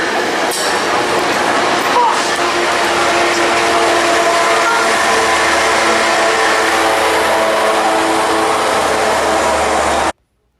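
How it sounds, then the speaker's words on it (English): A reversing Metrolink commuter train rolls past in a loud, steady rail rumble that keeps up for about ten seconds, then cuts off abruptly. "so another reversing Metrolink"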